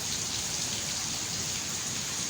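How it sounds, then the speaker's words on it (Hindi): Heavy rain pouring at night, a steady dense hiss of drops hitting surfaces, constant and unbroken with no voices. "सही बारिश जो है ना वो पड़ रही है।"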